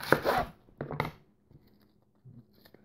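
Knife slicing through an onion on a cutting board, a few close crisp chopping cuts in a short burst, then quieter small rustles and taps.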